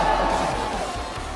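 Esports arena crowd cheering for team H2K at a live match, a dense roaring wall of voices that stays loud and steady throughout.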